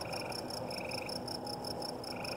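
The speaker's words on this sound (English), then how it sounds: "You can hear the bullfrogs once in a while." Night chorus of frogs and insects by a farm pond: steady trilling calls and pulsing chirps throughout, with occasional low bullfrog croaks mixed in, no voices.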